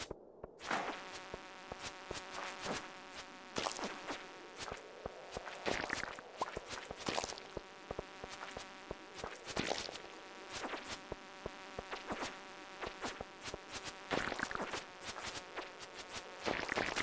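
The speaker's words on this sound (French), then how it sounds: "On va vite tuer les mouches là, avant qu'elles se transforment." Flies buzzing in the Stardew Valley video game: a steady insect drone runs throughout, broken by frequent sharp clicks and hits, with soft tonal game music underneath.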